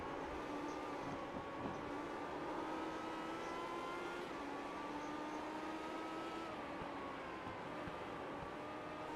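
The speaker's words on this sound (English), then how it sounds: "Downshifting on the backstretch" Race car engine in a racing video game at the Iowa oval, a steady high-pitched drone with shifting tones as it downshifts along the backstretch, continuous and fairly faint throughout.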